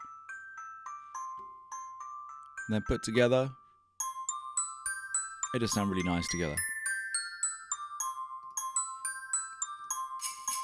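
Layered software bells ring out, including hand bells from the Spitfire LABS plugin, playing a bright sustained Christmas melody of clear chiming notes, with someone talking over parts of it.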